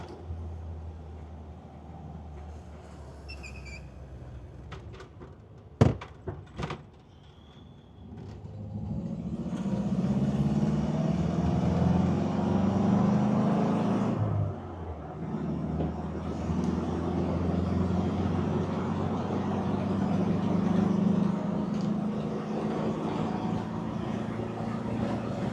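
A 1959 Nash Metropolitan with a CVT driving onto the freeway at speed, a steady engine and road rumble with wind noise heard from inside the car, after a few sharp knocks early on.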